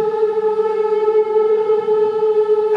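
A human voice imitates a trumpet with a steady, sustained, brassy buzzing tone held evenly, close and fairly loud, with no speech over it.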